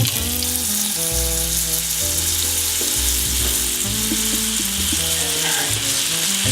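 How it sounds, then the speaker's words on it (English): Water splashed onto a hot stovetop pan sizzles loudly and continuously, heard alongside sustained tonal background music. "if you splash the water and it sizzles just like that"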